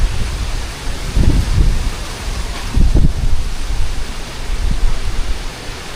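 Strong gusting wind blows across a mountainside as Typhoon Basyang approaches. A loud, continuous roar swells in heavy low buffeting bursts, with no talk.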